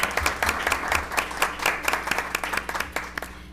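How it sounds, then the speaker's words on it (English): A room of people at a school committee meeting applauding, steady overlapping hand claps sustained throughout at moderate loudness, with no talking. "Round of applause."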